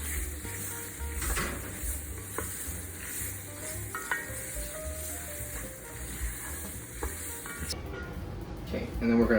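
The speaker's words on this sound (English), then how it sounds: "stir it around. Make sure you get the oil coated on all of the vegetables here." Vegetables sizzling in oil while being stirred in a pan, a dense continuous hiss with scraping and clattering from the stirring, fairly close and steady throughout.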